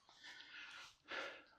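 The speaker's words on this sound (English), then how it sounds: "And then me heavy breathing at you." Heavy, breathy panting from a hiker on a trail in Red Rocks Canyon, Las Vegas, two close exhalations heard alone and fairly faint.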